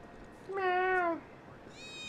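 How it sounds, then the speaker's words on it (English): A cat in the game Final Fantasy 7 Remake gives one clear, drawn-out meow, close and moderately loud, then starts a second higher meow, with no talk. "I see a cat!"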